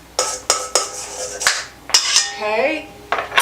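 Sharp clinks and taps of a utensil end stirring a rapid yeast mixture in a cup for a cinnamon roll dough, several quick close knocks in an irregular rhythm with a short scraping swirl near the end.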